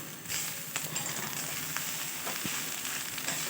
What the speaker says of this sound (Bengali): এবারে আমি বাঁধাকপিগুলো আর সয়াবিনগুলো দিয়ে দিলাম